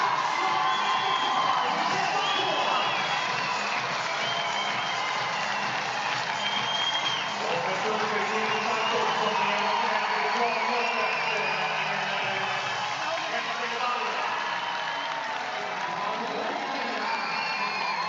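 A large crowd cheers and applauds at the Stockholm Marathon finish, a steady dense wash of clapping, whoops and shouting that fills the whole stretch without letup.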